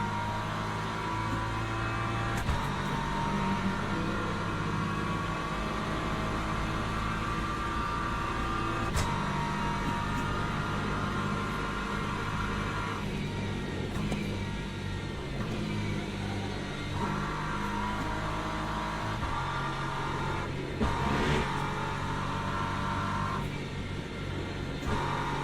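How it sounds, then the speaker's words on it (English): Hypercars roar past on the track in the Le Mans Ultimate racing game as a steady, continuous engine drone with shifting pitch that rises and falls through the stretch, with no talking. "Right, more hypercars coming through."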